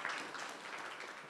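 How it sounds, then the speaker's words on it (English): An audience at an academic talk claps briefly, a short, even patter of applause lasting about a second. "Now you can clap."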